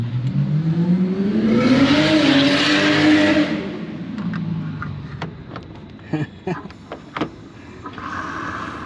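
A diesel car roars past nearby on a road, its engine note rising and falling before fading, followed by scattered clicks and rustling.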